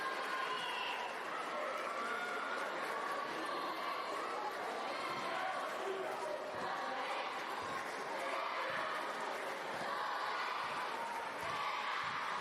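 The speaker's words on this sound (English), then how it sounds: "Crowd coming alive here in Alexandria" Crowd noise fills a basketball arena in Alexandria during a FIBA Africa Women's Basketball League game between Sporting and C.N.S.S., a steady broad roar of voices rising slightly, with general chatter throughout.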